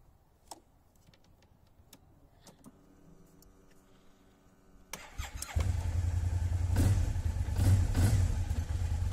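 A Kymco AK550 scooter with battery trouble, hooked to a jump starter, gives a few quiet clicks and whirs, then its engine catches midway and settles into a steady, loud idle.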